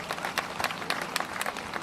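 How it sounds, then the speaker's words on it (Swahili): A crowd at a Meru gathering clapping for a young man, a short burst of uneven, scattered hand claps at moderate loudness. "hebu mpigeni makofi hiyo kijana"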